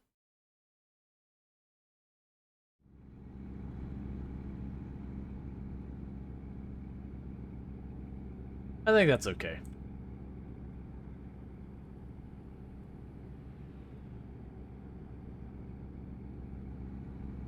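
Steady low truck exhaust drone in American Truck Simulator, a constant loud rumble holding after it starts, with a brief sharp whoosh partway through; a voice speaks briefly over it.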